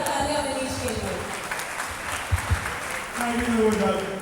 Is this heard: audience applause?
yes